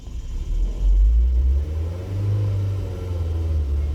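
A car engine with a vacuum leak and a P0400 fault, normally idling high and loping, is given a little gas. A close, deep rumble surges and then settles back to an uneven idle, with no talking.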